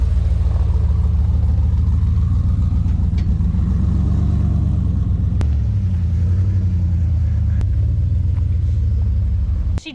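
A Jeep with an LS engine swap and a Holley Terminator kit, running with no hood, top or doors, rumbles loud and close with a deep, steady engine drone and a few sharp clicks.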